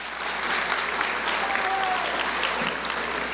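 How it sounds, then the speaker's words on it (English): A large crowd at an outdoor rally in Jackson, Mississippi gives steady, loud applause for the school superintendent, a continuous wash of clapping with faint voices underneath. "So we got to give him a round of applause"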